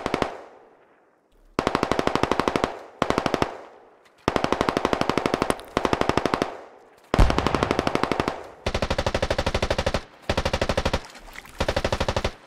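Bursts of automatic gunfire from a hillside fight in a tactical squad shooter video game, with rapid machine-gun volleys repeating loud and close in several long strings separated by short gaps.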